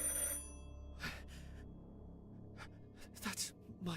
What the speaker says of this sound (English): Someone answer the phone.